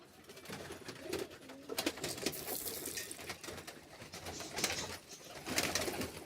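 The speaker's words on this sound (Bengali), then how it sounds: "সব কবুতর নিচে লেবে এসেছে।" Pigeons come down to feed after their first release, cooing repeatedly with bursts of wing flutter and scuffling at close range, and no talking.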